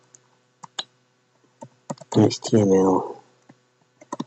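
Keyboard keys clicking as a doc type is typed into a new Notepad document for a JavaScript Hello World page, scattered sharp taps close by, with someone talking over the middle of the burst.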